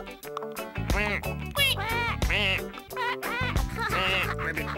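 Cartoon ducks quack in quick, bouncy, bright bursts, loud and close, with a light musical backing underneath.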